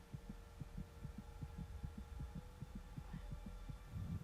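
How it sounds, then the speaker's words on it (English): A fast heartbeat sound effect from a She-Hulk episode: steady, evenly spaced double thumps, about two per second, muffled and low over a faint background hum, with no talking. "I can hear yours too. Your heart's beating pretty fast."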